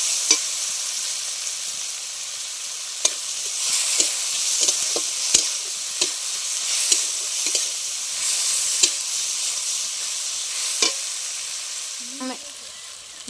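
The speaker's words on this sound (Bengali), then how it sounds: "পেঁয়াজটা টমেটোটাও আমি দিয়ে দিচ্ছি। খুব ভালো করে আমি ভেজে নেব।" Onion and tomato fry steadily in a pan, a continuous close sizzle broken by occasional stirring clicks and scrapes, with no voices.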